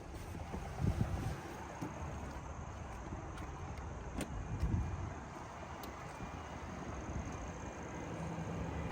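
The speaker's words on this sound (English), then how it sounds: "we are driving the 2026 BMW X7 XDrive40i" Cabin of a 2026 BMW X7 xDrive40i on the road: a low, steady rumble of tire and wind noise, quiet and continuous, with a few soft thumps from the road surface.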